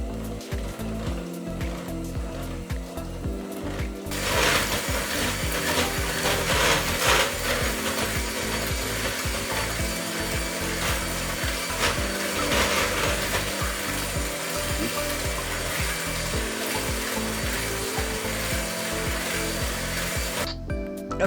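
An electric mixer beats cannoli filling with sugar, vanilla, cinnamon and salt, starting after a few seconds of clattering handling and then running steadily with a rattling, grinding whir.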